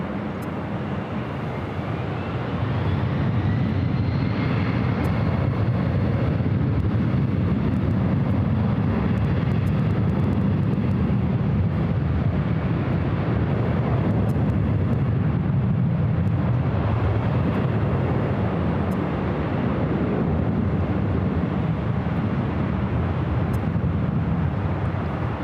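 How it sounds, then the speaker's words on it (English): A Boeing 777 jet takes off from runway 24 left at LAX, a continuous, distant, broadband roar that swells after a couple of seconds and holds steady throughout. "777 also heading up for a north-side takeoff"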